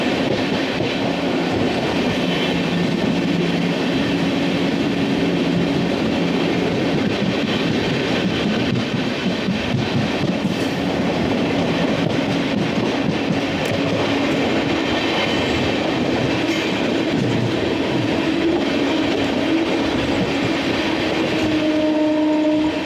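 A Rewa–Anand Vihar Superfast Express rushes past close by, a loud, steady roar of wheels and coaches with rhythmic clatter lasting throughout, without a break.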